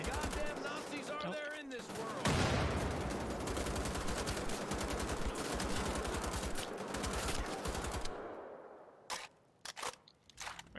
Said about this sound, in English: we're just gonna shoot these guys up, really